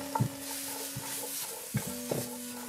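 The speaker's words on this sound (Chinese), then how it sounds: "然后把核桃仁和大枣放到铁锅中，给它炒制一下" Walnut kernels and jujubes tumble in a dry iron wok over low heat, with a soft hiss beneath a few distinct stirring clacks and scrapes, close and fairly quiet.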